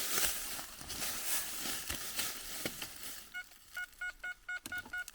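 A metal detector gives short electronic signal beeps in a quick rhythm after a stretch of rustling and scraping of digging outdoors, moderately loud and close.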